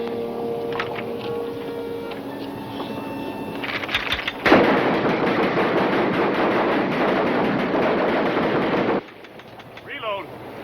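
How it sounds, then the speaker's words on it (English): A loud, sustained volley of rifle fire starts abruptly after a spoken command and rattles on for about four seconds, then cuts off into quieter background noise. "Commence firing."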